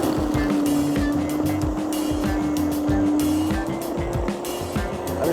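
A $200 corded electric snow blower with an auger running continuously through snow, a steady close motor whine with scraping and churning throughout, no pauses.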